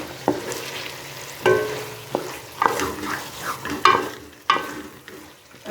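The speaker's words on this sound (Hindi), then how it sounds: "पाउडर मसाले को अच्छी तरह मिक्स कर लेते हैं।" Powdered spices being stirred into simmering dhaba-style chana dal, with a spoon scraping the pan in irregular strokes over a soft, steady sizzle.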